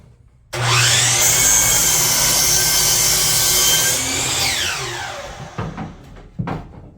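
A power saw bites into wood for a dog kennel entertainment center, a loud sustained whining cut that winds down after a few seconds, followed by scattered clunks of handling.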